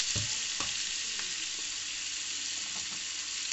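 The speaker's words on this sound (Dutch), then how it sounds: "Even lekker laten bakken." Food sizzles and crackles steadily in a hot pan, close and moderately quiet, with a few stirring clicks and no talking.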